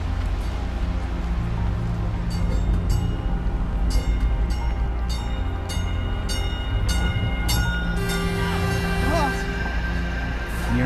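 A train passes near the tracks with a heavy continuous rumble and regular clicking beats, and a tonal horn-like sound rises near the end.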